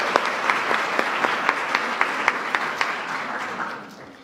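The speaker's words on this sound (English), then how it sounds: "give yourself a big round of applause" A crowd at a White House Kids' State Dinner applauds steadily for several seconds, a dense wash of clapping with a few sharper claps standing out, fading toward the end.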